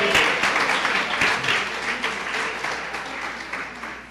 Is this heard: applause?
yes